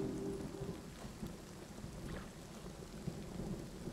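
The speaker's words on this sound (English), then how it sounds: "unfortunately the rain is a little bit of a hamper on things." Steady rain with low rumbles of thunder in the side-scrolling strategy game Kingdom: Two Crowns, a constant wet hiss with deep rolling undertones, fairly quiet and continuous with no talking.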